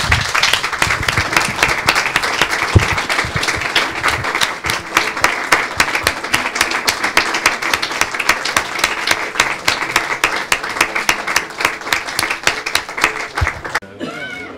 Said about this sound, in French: en vous remerciant et en vous applaudissant